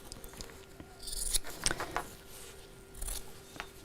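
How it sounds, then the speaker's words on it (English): Scissors snipping through lining fabric, a few close crisp cuts clustered in the middle with quieter rustling of cloth around them, no talking. "cut a piece of lining fabric to the shape of the fabric"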